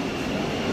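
The Howrah–Puri Vande Bharat Express runs along with a steady, broad rumble and whoosh, heard from inside the moving train, moderately loud with no pauses.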